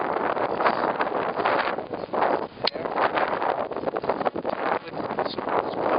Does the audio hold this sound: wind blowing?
yes